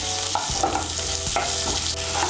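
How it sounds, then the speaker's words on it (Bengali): Chopped onion frying in leftover oil in a wok after fish was fried, a steady close sizzle with stirring scrapes and clinks recurring every second or so. "মাছ ভাজার পর কড়াইতে আমার যে তেল আছে ওই তেলের মধ্যে আমি পেঁয়াজ কুচিটাও ভেজে নেব"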